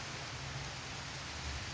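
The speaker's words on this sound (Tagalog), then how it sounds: "Pag lumakas yung ulan, maliligo tayo sa ulan." Soft, steady rain hisses evenly, a faint wash of falling drops with no voices.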